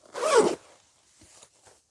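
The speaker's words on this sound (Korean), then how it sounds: "여기 이렇게 지퍼가 있어요." A zipper on a large bag is pulled open in one quick, fairly loud rasp, followed by a few faint rustles of handling; no one talks.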